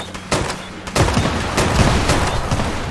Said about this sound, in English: Who's shooting me now?